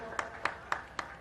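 A crowd at a public event for Uttarakhand's new education policy claps in unison: five sharp, evenly spaced claps in a quick steady rhythm, moderately loud and close.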